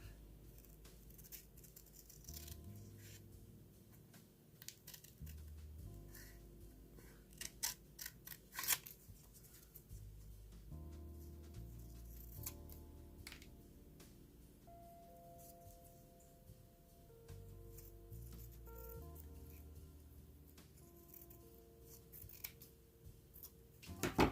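Scissors snip through cardstock while making lace and scrap paperclip embellishments, a quiet series of close, irregular cuts and small ticks and paper handling sounds with no talking.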